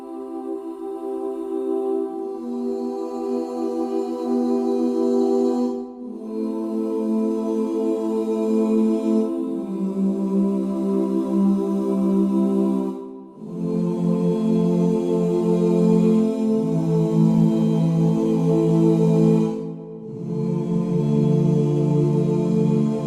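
Alt Choir ensemble patch from the Westwood Instruments choir library, sustained wordless choir chords blending soprano, alto, tenor and bass voices, swelling through several slow chord changes with brief breaths of silence between phrases.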